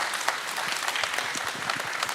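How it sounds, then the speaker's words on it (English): A conference audience gives a round of applause to an electric vehicle battery and charging panel, a dense, steady wash of many hands clapping at moderate volume, sustained throughout with no break. "Shall we honor them with a big round of applause?"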